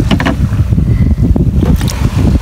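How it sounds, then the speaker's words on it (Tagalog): Strong wind gusting by the sea near a fishing boat, a loud continuous roar with buffeting rumble on the microphone and some water and boat noise, no voices. "Pahinga din muna ako saglit dito kasi sobrang hangin no. Lakas ng hangin."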